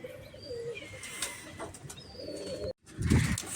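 Pigeons gathering to peck at scattered grain coo in low, soft bursts close by, with faint chirps and brief wing flutters over an outdoor background.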